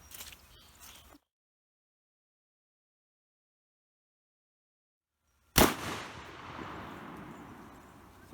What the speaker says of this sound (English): now we're going to give her her low powered shells let her shoot them